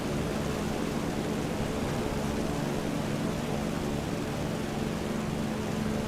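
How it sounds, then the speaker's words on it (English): Propeller aircraft engine in War Thunder air arcade, a steady dense droning roar held at constant loudness throughout, with no talking over it. "The engine sound is different."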